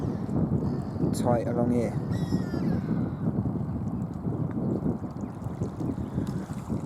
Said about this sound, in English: It's all depending on whether this wind will die down